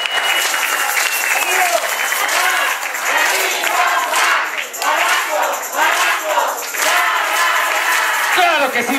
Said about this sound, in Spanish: un aplauso que se escuche.